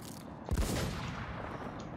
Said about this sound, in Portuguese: Tomando muito tiro.